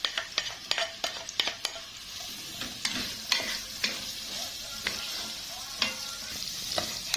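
Onions frying in hot oil in a cooking pot while a spoon stirs them, giving a constant soft sizzle broken by sharp scraping clicks of the utensil against the pot, quick at first then spaced out.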